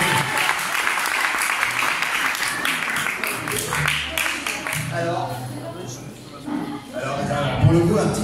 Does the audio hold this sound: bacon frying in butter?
no